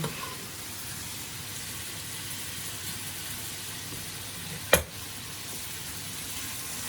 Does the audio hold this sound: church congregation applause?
no